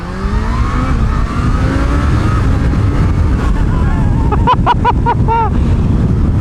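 A 2020 Kawasaki Z H2 supercharged motorcycle accelerating hard in first gear, its engine note climbing steadily in pitch under a constant roar of wind, ending in a few quick warbling engine pulses.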